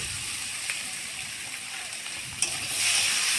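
Ginger-garlic paste sizzling in a hot pan, a steady close frying hiss that swells louder near the end with a brief stir.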